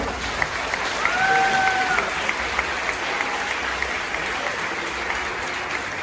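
Congregation applause at a church retreat sermon, steady crowd clapping throughout with a couple of brief whistles near the start.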